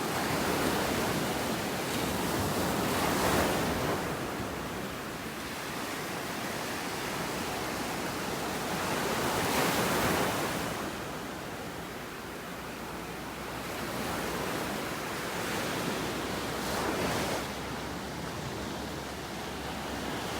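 Ocean surf rolls steadily onto the beach at North Naples, Florida, with broad hissing wash swelling and easing every few seconds, wind noise mixed in, and no voices.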